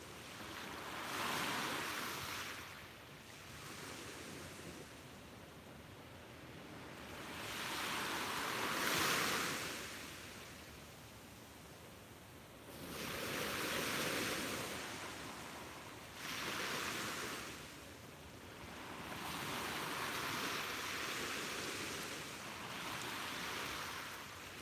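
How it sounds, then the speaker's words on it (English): Ocean waves roll in and break on a beach in slow, repeating surges, each swell rising to a hiss and fading, with wind in the background. "soak in the sounds of those relaxing waves"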